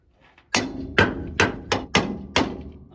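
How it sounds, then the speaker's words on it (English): Six sharp metallic strikes of a copper hammer on metal during a John Deere 9560STS combine restoration ring out at a fairly even pace, each blow loud and close with a short ringing decay. "Copper hammer."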